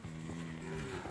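A cow lows in a long, steady moo, close and loud, as a herd of cows with calves is driven up into a corral.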